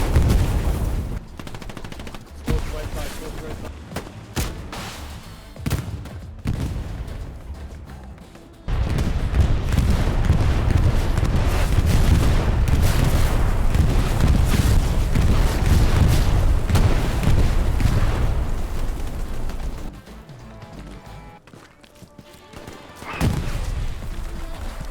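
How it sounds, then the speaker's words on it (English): Sustained battlefield din from the World War game Hell Let Loose: dense machine-gun bursts, rifle shots and booming explosions, loud and continuous through the middle stretch, thinning to scattered distant shots near the start and end. "Whether it's from grenades, rockets, bombing runs, airstrikes, tanks, all of it's entertainingly sound"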